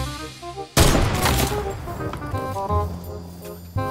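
Gunfire in the video game Fortnite, a sudden loud volley of rapid shots breaking a quiet moment, followed by lingering echoing shots and another burst near the end.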